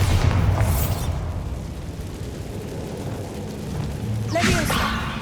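A Bombarda blasting spell cast in the video game Hogwarts Legacy. It gives a short burst at the start, then a low rumbling decay, and a second loud crack with a whooshing boom near the end.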